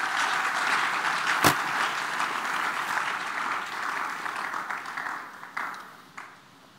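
A church congregation applauds in a dense, sustained wash of clapping that fades gradually toward the end, with one sharp knock early on and a few isolated claps at the close.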